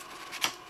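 A sheet of paper slides under the nozzle of a Wanhao D6 3D printer, giving a brief, close, faint papery rustle and scrape.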